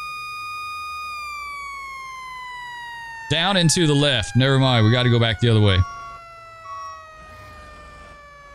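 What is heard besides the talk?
fire truck siren in firefighting video game Into the Flames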